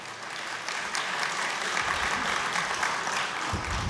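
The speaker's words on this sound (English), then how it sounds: "these are applauds to you" Audience applause for an ambassador's speech at a geopolitical conference session, a steady dense clapping held evenly for about four seconds, with a murmur of voices beneath.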